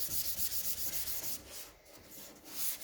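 A sanding block with 220-grit sandpaper rubs back and forth over painted bodywork on a '68 Firebird, a close, steady rasping scrub in quick repeated strokes with a brief lull near the middle.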